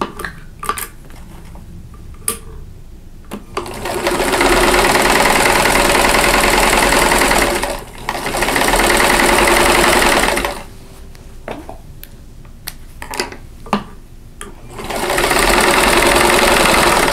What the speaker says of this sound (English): I'm going to turn them around and sew on the opposite side.